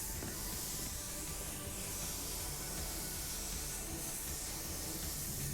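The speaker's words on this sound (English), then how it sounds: "I like to spray this clear coat pretty close to my panels." A spray gun applies clear coat to car panels held close, producing a steady, even hiss that continues unbroken throughout with no talk.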